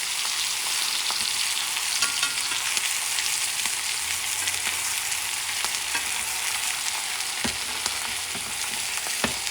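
A steak fries in a hot pan while melted butter is spooned over it, giving a loud, steady sizzle throughout with occasional sharp clicks from the spoon against the pan.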